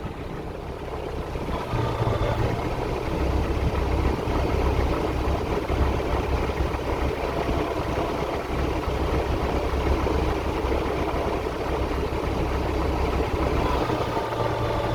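A tractor engine idles steadily during wheat sowing, a continuous close, moderately loud rumble with broad mechanical noise that holds even throughout, no voices over it.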